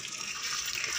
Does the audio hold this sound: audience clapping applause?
no